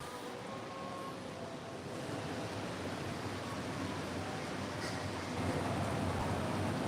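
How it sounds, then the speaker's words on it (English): Rain falls outdoors as a steady, broad hiss of dense patter, moderately faint and continuous, swelling slightly toward the end, with no voices. "You can probably hear the rain out here."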